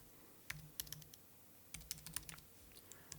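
Quiet, close keystrokes tap out a short word on a computer keyboard in two brief clusters separated by a pause, with no speech.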